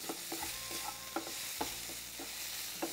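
Onions and soya chunks sauté in a pan, a soft continuous sizzle broken by regular scraping stirs and light utensil taps against the metal, fairly quiet and close, with no speech.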